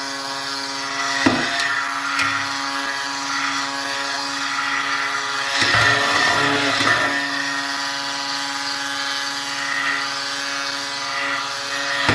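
A blender motor whirs steadily through peppermint soap batter, holding a continuous hum with a couple of brief bumps in tone, running alone without talk.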